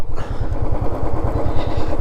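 A Royal Enfield Signals 350 motorcycle runs close by, its single-cylinder engine thumping in a steady, loud, rhythmic beat throughout.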